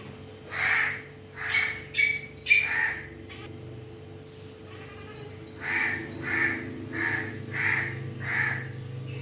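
A crow caws repeatedly, harsh calls coming in short bursts and then a steady series of evenly spaced caws nearby.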